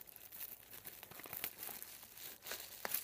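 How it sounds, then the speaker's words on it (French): Scissors snip and crinkle through bubble wrap packaging, a faint, close run of scattered crackles and rustles with occasional sharper pops and no speech. "Je vais prendre la paire de ciseaux, ce serait mieux."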